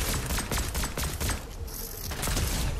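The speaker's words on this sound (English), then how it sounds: "somebody shooting here." Gunfire in the video game Fortnite, steady bursts of rapid shots repeating close by and loud, with brief gaps between the volleys and no talk over it.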